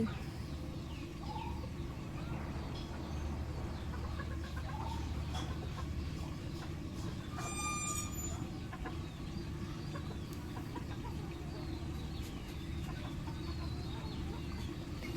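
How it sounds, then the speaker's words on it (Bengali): Pet chickens cluck faintly in a home kitchen, their scattered calls sitting over a continuous low background hum. "দেখেন আমার মুরগি।"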